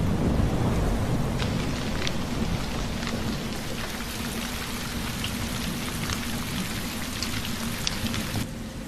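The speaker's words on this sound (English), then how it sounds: "The rains finally return, bringing much-needed relief to the parched earth." Heavy steady rain pours down at the return of the wet season after a dry spell, with low rolling thunder underneath and scattered sharp drops, loud and continuous throughout.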